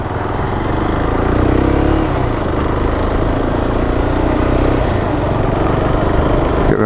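A motorcycle engine drones steadily while the bike is ridden through corners, a continuous mid-level rumble mixed with heavy wind rush, with no distinct throttle changes standing out.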